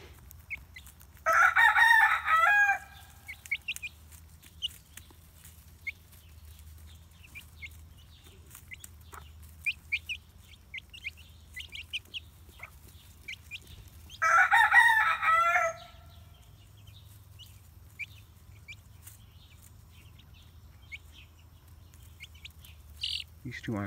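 Two loud rooster crows ring out in a chicken coop, spaced about twelve seconds apart, over a low steady hum with faint scattered clucks and rustling in between.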